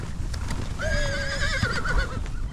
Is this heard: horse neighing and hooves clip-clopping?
yes